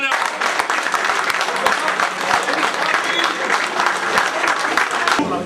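Steady applause fills a carnival enthronement ceremony in Virton, a dense, continuous crowd of clapping holding at an even level throughout with some voices mixed in.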